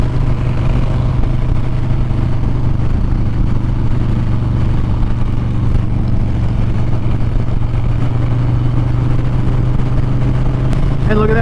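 Harley-Davidson Street Bob 114 motorcycle cruising on a highway in fifth gear at about 70 mph and 3,100 RPM, a loud, steady, droning engine hum mixed with constant wind rush, with a brief voice near the end.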